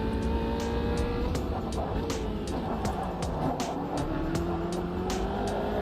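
A race car engine droning steadily while the driver weaves to warm the tyres in a racing game, its pitch rising and falling continuously with faint tyre noise.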